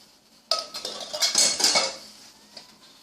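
A hot and spicy bean casserole mixture being stirred in a dish, with a burst of clinking and scraping of a utensil against the container for about a second and a half, then quieter taps.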